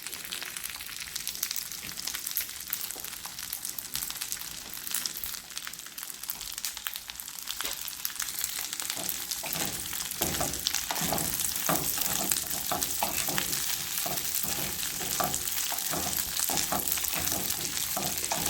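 Cipollini onions sizzle and spit steadily in butter in a pan, a dense crackling hiss with soft stirring clatter that grows a little louder partway through, close up and with no talk.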